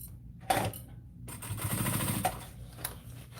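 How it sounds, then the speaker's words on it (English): A sewing machine stitches down part of a fabric bag with a joining stitch, a brief close mechanical whir that starts and stops in short bursts, moderately loud against quiet room tone. "we're going to go ahead and stitch this down"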